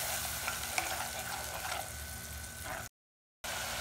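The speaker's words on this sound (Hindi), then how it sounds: "अब हमने जो पेस्ट बनाया है उसे हम ऐड कर लेते हैं और इसे भी 2 से 3 मिनट के लिए भून लेंगे" Masala paste for a North Indian vegetarian dish fries in a pan with a soft, steady sizzle and faint stirring scrapes. The sound cuts out briefly to silence near the end, then the sizzle resumes.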